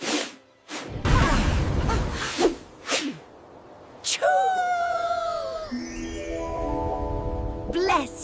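A cartoon elephant sneeze: a sharp gasping build-up followed by a loud airy burst, mixed with whooshes, squeaks and animated sound effects.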